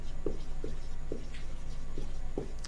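Pen writing a definition in a Class 9 lesson, with a series of soft, rhythmic scratching strokes close up over a steady low background hum.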